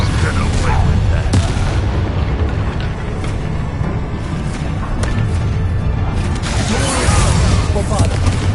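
A Bombarda blasting spell goes off in a Hogwarts video game, giving loud booming blasts and clattering impacts over a rumbling battle background, with scattered sharp cracks throughout and voices speaking intermittently.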